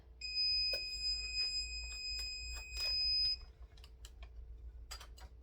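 A few sharp electronic beeps from a VEVOR heat press timer sound close by, followed by quieter clicks and handling noises.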